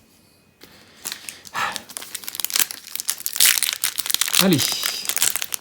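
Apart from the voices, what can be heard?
booster pack foil wrapper crinkling while opened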